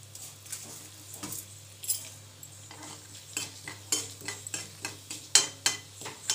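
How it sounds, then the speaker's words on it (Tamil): Asafoetida and urad dal roasting in oil in a pan for milagu kuzhambu: a faint, quiet sizzle under a low hum, punctuated by a series of sharp spatula scrapes and clinks against the pan. "நம்ம வந்து வச்சுருக்கிற உளுத்தம்பருப்பை போட்டு வறுத்துக்கலாம்"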